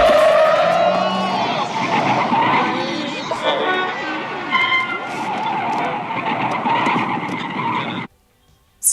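Car tires squeal in a long, loud skid as the vehicle spins out in a film scene, the screech sustained for about eight seconds over engine roar and voices before cutting off abruptly.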